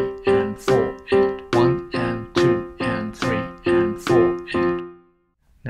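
Eight even piano chords are struck one after another at a steady, unswung pulse in straight eighths, each ringing briefly before the next, ending with a fading final chord.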